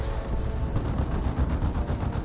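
Rapid artillery and missile fire from a battle in the game Dawn of War 2, a dense, steady stream of bursts and impacts that runs throughout without a break.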